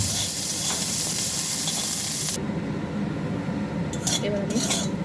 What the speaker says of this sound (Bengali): এবার আমি নিম পাতাটাকে বেশ একেবারে মচমচে করে ভেজে নেব